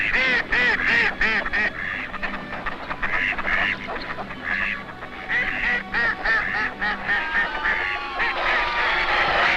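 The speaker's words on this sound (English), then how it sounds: "even though ducks are plentiful, they're never safe when a fox is near." Ducks quack loudly and repeatedly near the edge of a lake in early spring, a dense, overlapping chorus of calls running throughout with no talking.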